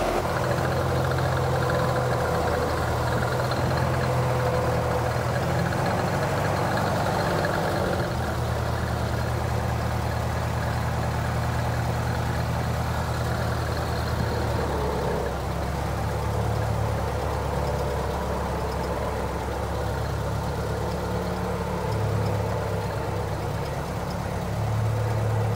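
Engine of a very old car idling steadily, a low, continuous rumble that holds even and close throughout.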